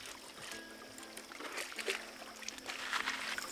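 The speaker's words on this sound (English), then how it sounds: "I'm canoeing with two clean freaks." Quiet water sounds of a canoe on the Rio Grande in Boquillas Canyon: soft trickling and sloshing from paddle strokes, fairly close, with faint ambient noise.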